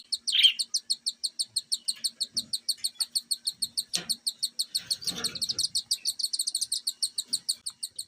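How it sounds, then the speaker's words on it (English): Cockatiel chicks begging with rapid, rhythmic high-pitched chirps while their parents feed them, a steady pulsing stream throughout with a few soft rustles and a brief louder call. "Our loving cockatiel parents feeding their tiny chicks."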